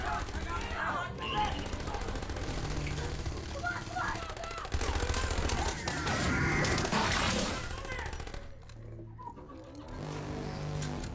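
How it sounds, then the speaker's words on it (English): Machine gun fire in a Stranger Things scene, dense rapid bursts mixed with loud dramatic audio and voices, steady and intense for most of the stretch before dropping away briefly and resuming. "Machine guns versus monster."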